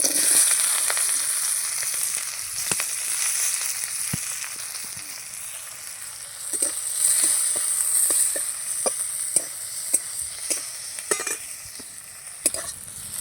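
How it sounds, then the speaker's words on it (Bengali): Onions frying in leftover oil from frying river fish, a continuous close sizzle broken by repeated sharp clicks and scrapes of stirring throughout. "ওই তেলের মধ্যে আমি পেঁয়াজ কোচানো ছিল, ওই পেঁয়াজটা দিয়ে দেবো।"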